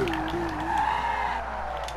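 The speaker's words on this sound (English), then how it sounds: "Nice drift, too." Porsche 911 GT3 drifting in Need for Speed Rivals, tires squealing in a sustained skid that bends in pitch over engine drone, close and loud for about two seconds.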